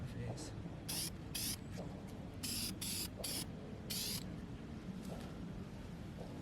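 Spray paint is sprayed underneath an RX-7 turbo car in a garage, with several short faint hissing bursts one after another over a low steady background, while people talk.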